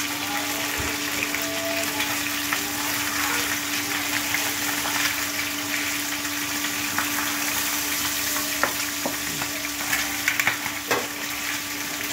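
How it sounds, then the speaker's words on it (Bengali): Note greens (amaranth) stalks fry in a pan, giving a steady crackling sizzle with occasional sharper pops and stirring noises under a constant low hum, no one speaking. "এখন নোটে শাক ভাজা তৈরি হবে, ডালগুলি দিচ্ছে"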